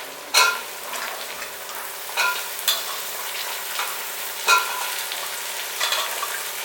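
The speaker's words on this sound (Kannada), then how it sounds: "ನಾನು ತರಕಾರಿನ ಹಾಕ್ತಾಯಿದ್ದೀನಿ." Vegetables go into browned onions in a hot pot for vegetable pulao, a bright sizzle punctuated by several sharp scraping stirs and clinks at irregular intervals.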